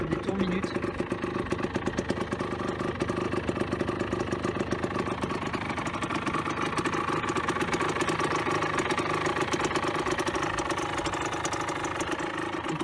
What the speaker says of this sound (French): on a vraiment un bruit assez rauque, un bruit assez sympa